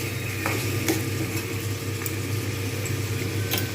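Potatoes and tomatoes fry together in a pan for a jackfruit and prawn curry, giving a steady low sizzle broken by a few spatula scrapes as they are stirred.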